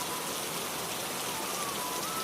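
Steady, dense rain pours down close by, a constant hiss of drops on surfaces that stays loud and unbroken throughout.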